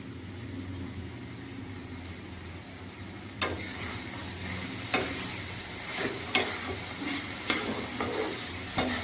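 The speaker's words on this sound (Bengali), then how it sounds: "এবার এটাকে ভাজতে থাকবো হালকা আঁচে কিছুক্ষণ, যতক্ষণ না সেদ্ধ না হয়।" Green peas frying gently in a pan over low heat while making pav bhaji, a soft steady sizzle with a few sharp clinks of a spoon stirring against the pan.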